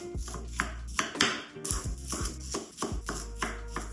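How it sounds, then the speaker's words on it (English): Onions are quartered with a knife on a board, a few heavy, separate thunks at close range with brief pauses between cuts. "then quarter up our onions"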